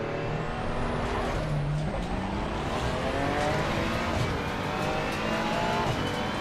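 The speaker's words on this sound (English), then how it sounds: "For a 6-cylinder, I think it sounds really good." A six-cylinder race car engine in the video game Assetto Corsa Competizione drones continuously, its pitch rising and shifting through gear changes, with tire noise layered over a dense, steady roar.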